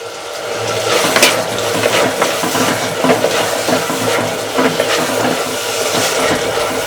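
Curry leaves sizzling in hot oil in a pan with turmeric for a Kanakatha fish curry, a steady close, bright crackling fry with small pops throughout.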